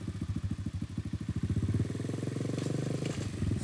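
A 125cc dirt bike engine chugs in a fast, even putter that slows and falters as the clutch is let out, ending in a stall, close by with no talk.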